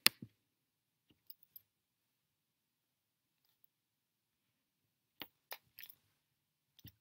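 Computer mouse clicking on an add button: a few sharp, isolated clicks close to the mic, scattered across an otherwise near-silent stretch.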